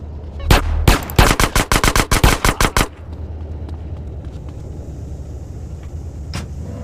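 Video-game machine gun fire in rapid, loud bursts of about a dozen close shots, then a low vehicle engine rumble carries on after the firing stops.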